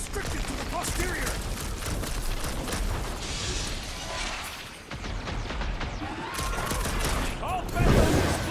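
Heavy weapons blasting in the Guardians of the Galaxy video game, a dense, continuous barrage of gunfire and explosive booms, loud and close, with characters' voices mixed into the combat.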